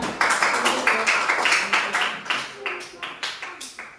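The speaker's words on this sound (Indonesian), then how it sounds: "tepuk tangan untuk kelompok bulan" A classroom group claps together for a presenting team, a close run of sharp, fairly loud claps in a steady pulsing rhythm for about four seconds.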